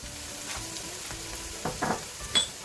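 Onions fry in a pan for a potato and minced meat curry, a soft continuous sizzle with a few light stirring scrapes near the end, close but fairly quiet.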